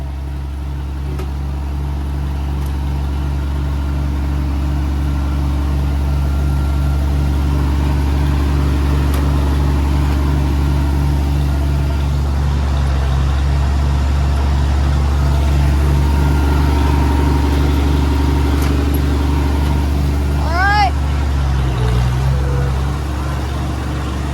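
A Farmall-style 706 tractor engine runs steadily at a loud, close, low rumbling idle for the whole stretch, a constant deep throb with a brief shift in pitch near the end and no talk.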